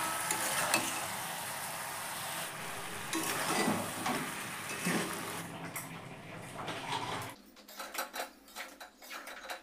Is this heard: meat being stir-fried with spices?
yes